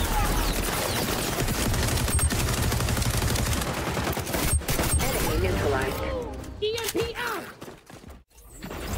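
Rapid bursts of weapon fire in the XDefiant shooter, loud and sustained for several seconds before thinning out, with a player's voice talking over the tail.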